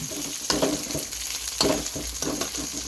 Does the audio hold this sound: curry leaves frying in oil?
yes